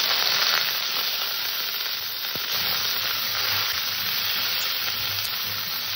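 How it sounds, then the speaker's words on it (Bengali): Mango pieces drop into hot oil with mustard seeds and sizzle loudly and steadily up close, a dense crackling fry with a few faint stirring touches and no voices. "সর্ষেটা ভালো করে তুলে দেওয়ার পরে আমি আম কটাকে ছেড়ে দিলাম।"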